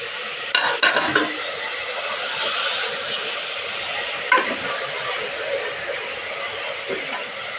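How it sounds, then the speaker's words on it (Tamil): Tender spinach greens stir-fried in a pan give a continuous close sizzle, with a few clinks and scrapes of the utensil against the pan near the start and middle. "கீரை பொரியல் வந்து கீரையை போடுறேன். இதில் சேர்த்துக்கிறேன்."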